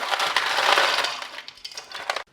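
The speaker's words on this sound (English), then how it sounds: "I'm going to drop some ice cubes in there." Ice cubes drop into a bowl of cold water with a bright, clattering crash of glassy clinks, then a few scattered knocks before stopping abruptly.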